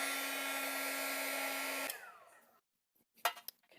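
A heat tool whirs steadily and close for about two seconds while melting gold embossing powder on a watercolor card, then clicks off and fades, followed by a couple of faint handling knocks.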